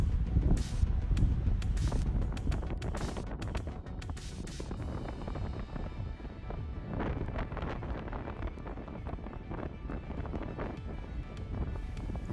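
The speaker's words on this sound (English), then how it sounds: "It's windy." Gusty wind blows steadily outdoors in cold, icy surroundings, a continuous loud rumble with buffeting against the microphone and no talk.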